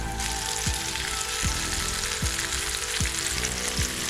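Paprika-coated pollock pieces frying in a pan of oil on a fishing trip, a close, continuous bubbling sizzle with a few soft low thumps spaced evenly through it, no talk.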